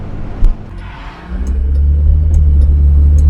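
A 1965 Wolseley 24/80 six-cylinder car accelerates through its gears, its engine rumble swelling from a quieter start into a loud, steady low drone close by, with no talking.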